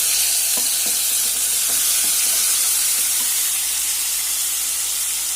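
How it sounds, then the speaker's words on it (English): Tomatoes sizzle in a pan for a potato and capsicum side dish, a continuous loud frying hiss with a few soft scraping stirs near the start, no voices. "Now in goes my tomatoes. Gently mix them."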